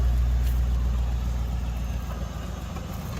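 A 1994 Chevrolet Corvette C4 with the LT1 V8 and about 180,000 miles idles close by, its deep, even rumble holding steady throughout with no talking over it.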